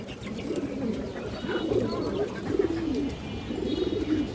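Pigeons coo close by in soft, repeated throaty phrases, one after another with no one talking.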